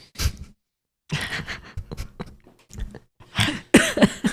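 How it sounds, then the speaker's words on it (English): Several close coughs come in short bursts separated by brief pauses. "You coughing now too?"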